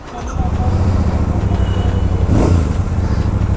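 A Royal Enfield Super Meteor 650 motorcycle engine catches and settles into a steady rumbling idle, then revs up briefly before easing back, close by and loud.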